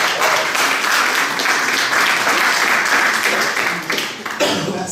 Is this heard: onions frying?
no